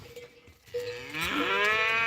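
Cattle on a farm moo in a rising, drawn-out call, close and fairly loud, with a fainter lowing sound just before it.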